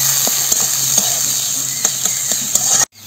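Chopped onion frying in white cooking oil in a wok, giving a steady close sizzle with a few sharp spoon clicks scattered through it, then cutting off abruptly near the end.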